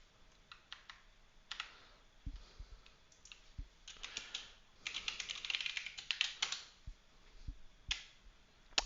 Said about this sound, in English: And of course, accidentally typing somehow enables my night vision.